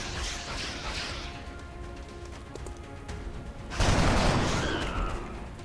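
Soldiers fire weapons in the turn-based strategy game XCOM Enemy Unknown, with bursts of gunfire and a loud rolling volley near the middle that fades slowly afterward, all without speech.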